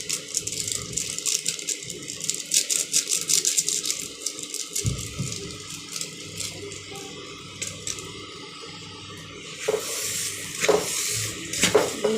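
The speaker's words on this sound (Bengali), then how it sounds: "সব একসাথে মিক্স করব। এই তরকা মশলাটা অ্যাড করি।" A tadka spice mix in a pan gives off a close, continuous rattling and scraping from stirring, with a faint sizzle underneath and sharper clatters near the end.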